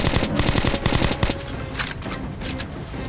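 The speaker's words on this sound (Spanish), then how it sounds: "Vamos a darte un poquito con la ametralladora" Machine gun fire in Metro: Last Light, a rapid stream of close, loud shots for about a second, followed by quieter scattered bursts and lingering noise.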